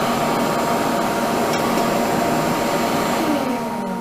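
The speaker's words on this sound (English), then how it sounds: "I'm going to stop this lathe and just look at it" A wood lathe runs steadily, a broad continuous whir with a faint high whine, holding level and loud before easing slightly at the very end.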